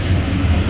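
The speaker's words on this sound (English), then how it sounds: "So we're taking the train." Steady low rumble and rolling hum of a passenger train running on rails on the way to Prague, heard from inside the carriage, loud and continuous with no talk.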